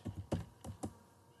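A handful of quiet keystrokes on a computer keyboard while an email is typed, with about five soft clicks in an uneven rhythm and then silence.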